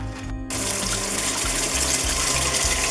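Water gushes from the tap of an A-frame pop-up camping trailer, a steady rushing flow that starts abruptly after a brief pause, with a low pump-like hum pulsing underneath.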